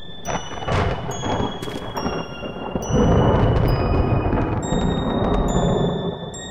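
Thunder in the horror video game The Happyhills Homicide booms in a few heavy rumbling cracks, loud and near, with high electronic game tones and beeps sounding over it and no talk.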